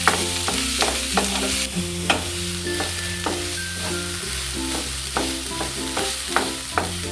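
Chopped onions sautéing in a pan, browning lightly for bread chilli, with a steady sizzle and repeated scraping stirs of a spatula at a quick, uneven rhythm, close and fairly loud, no voices.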